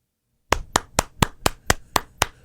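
After half a second of silence, one person claps about eight times in an even, deliberate rhythm, each clap crisp and close.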